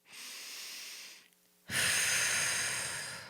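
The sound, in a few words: deep breath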